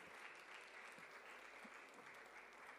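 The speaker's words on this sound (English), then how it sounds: "A huge round of applause." Audience applause fills an awards ceremony at a university law summit, a steady, dense wash of clapping from a large crowd that holds evenly for the whole stretch.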